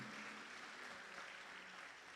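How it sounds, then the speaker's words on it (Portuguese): A church congregation during an evening worship service applauds, a faint, distant, continuous wash of clapping heard briefly. "Dê um aplauso ao Senhor com alegria nesta noite."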